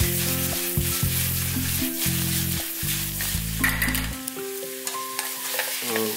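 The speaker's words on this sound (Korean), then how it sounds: "호박하고 파하고 모두 넣어주세요. 너무 덜 볶게 되면" Zucchini and green onion stir-fry in a pan over medium-low heat, a close, steady sizzle with crackles, mixed with loud bursts of tonal humming that cut in and out, then a quieter sizzle and clinks.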